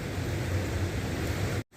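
Rain falling steadily outdoors, a dense close hiss of drops that cuts off abruptly near the end.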